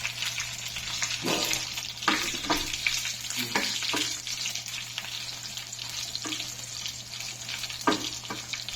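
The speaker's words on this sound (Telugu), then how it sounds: "ఇదిగో ఇవి వేగాయి. అల్లం ముక్క కూడా ఇందులో వేసేస్తున్నాను. కొద్దిగా వేయించుకుంటే చాలు." Ingredients for ginger chutney, including mustard seeds and pieces of ginger, fry in a pan with a steady close crackling sizzle, broken by occasional scrapes and stirring knocks, and no talk over it.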